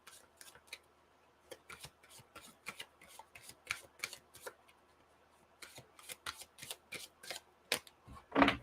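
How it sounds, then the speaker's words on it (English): Heal Yourself reading cards being shuffled by hand, quiet close riffling bursts in an irregular rhythm with brief pauses between, ending in a slightly louder flurry. "I am using the Heal Yourself reading cards."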